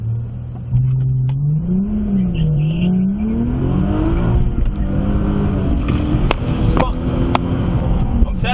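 An Infiniti G37 fitted with test pipes launches hard, its engine note climbing and wavering through the revs before a raspy, loud full-throttle pull. The car is close, and voices are heard faintly beneath it.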